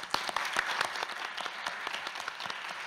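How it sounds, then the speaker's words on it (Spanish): Steady applause from a university forum audience at FES Acatlán, many hands clapping at once in a dense, even patter, moderately loud and without talk over it. "pido un aplauso"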